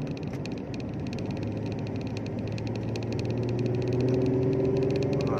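A Mitsubishi FTO GP Version R DOHC engine held in a lower gear hums as a steady drone from inside the car, swelling slightly louder toward the end.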